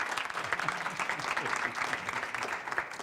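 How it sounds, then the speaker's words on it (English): Warm applause from a studio audience on a radio news show, dense steady clapping for the full stretch with no pauses. "That applause was lovely"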